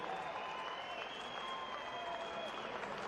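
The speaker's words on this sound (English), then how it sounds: "let's give them a round of applause one more time." Audience applause fills an arena after a professional boxing fight, dense sustained clapping and crowd noise with voices mixed in.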